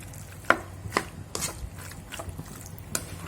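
Fried macaroni ingredients are stirred together in a bowl, giving a few soft, wet clicks and scrapes at irregular intervals against a quiet background.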